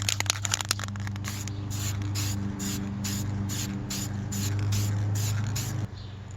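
Aerosol metallic finish paint sprays onto EVA foam in a rapid series of short hissing bursts, close and steady, with a low background hum underneath and no talking.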